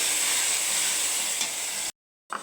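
Chopped tomato and spice paste hiss and sizzle in a frying pan as they are stirred, a steady close frying noise that cuts out abruptly near the end.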